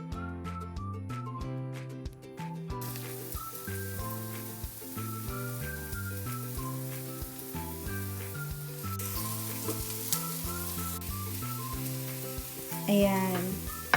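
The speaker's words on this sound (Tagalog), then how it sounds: "Ready na ako mag-gisa. May mantika na tayo konti." Garlic sautéing in a small amount of oil in a pan for kare-kare: a soft, steady sizzle running under prominent background music, with a brief louder flare near the end.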